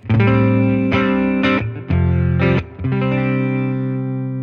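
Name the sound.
electric guitar through clean boost pedal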